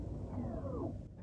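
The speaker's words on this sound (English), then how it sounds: "And once again, this is the sound of this car going into park." A Tesla Model 3 Performance being put into park makes a short downward-gliding synthetic chime, a single smooth sweep over steady low cabin rumble, close and moderately quiet.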